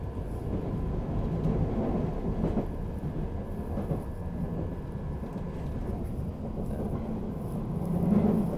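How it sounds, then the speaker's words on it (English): A London Underground train near Ravenscourt Park strains as it accelerates. Its steady low rumble and rattle carry on without a break for the whole stretch, loud and close, as if heard from inside a carriage. "The train sounds like it's straining so much when it got."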